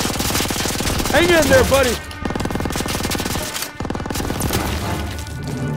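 Sustained machine gun fire rattles in dense rapid bursts during a World War II battle against Nazi troops in Aachen in Call of Duty, with someone shouting briefly over the gunfire.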